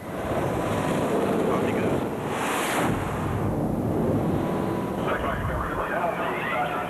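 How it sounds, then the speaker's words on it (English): Jet afterburners roaring as a catapult launches the plane off the aircraft carrier Stennis, a loud, continuous broadband rush with a brief surge partway through and a voice speaking over it. "The afterburners are firing, bringing us to more than 400 miles an hour in just seconds."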